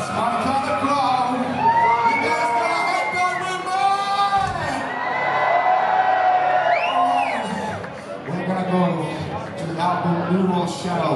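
A concert crowd at a live metal show in a Montreal theatre cheers, whoops and shouts loudly and continuously, with someone talking over the noise from the stage.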